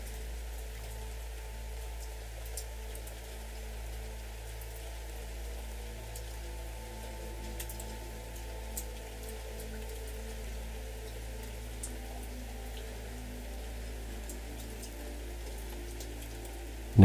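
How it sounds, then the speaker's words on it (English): Gentle rain falls softly and evenly for the whole stretch, a steady hush of fine drops with a low constant undertone and no voices. "listen and enjoy the relaxing sound of a gentle rain."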